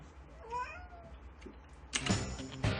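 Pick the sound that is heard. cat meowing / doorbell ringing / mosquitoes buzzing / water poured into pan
cat meowing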